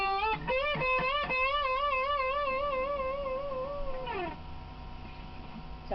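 A distorted electric guitar lick from a song opens with a few quick stabs, moves into long wavering vibrato notes, and ends with a downward slide, played solo and close.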